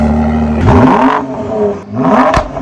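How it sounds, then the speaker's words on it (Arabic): Ford GT with a 660-horsepower six-cylinder engine and an Akrapovic exhaust revs hard twice, each sharp rise in pitch falling away again between blips, loud and close with no talking. "اكرابوفيتش اكزوست بيضربوا نار"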